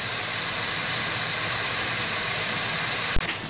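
Onions frying in a pan for a tamarind-leaf and dried-fish curry, a steady loud hiss of sizzling that holds evenly throughout, with a brief clunk near the end.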